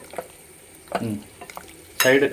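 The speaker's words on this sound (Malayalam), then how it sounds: "എന്നിട്ട് നമ്മൾ ഈ ചേർത്ത ഇൻഗ്രീഡിയൻസ് എല്ലാം ചേർത്ത് നന്നായിട്ട് ശരിക്കും ഒന്നും കൂടെ ശരിക്കും ഇളക്കിക്കും." Goat liver curry with masala and a little yogurt is stirred in a pan, giving a few short, close scrapes and soft sizzling bursts separated by quieter gaps, with no talking.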